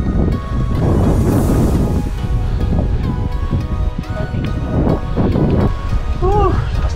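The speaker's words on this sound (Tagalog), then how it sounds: "Lakas ng hangin." Strong wind buffets the microphone during a bike ride to Baler, Aurora, a loud, steady rushing roar with gusty swells throughout, while people talk faintly underneath.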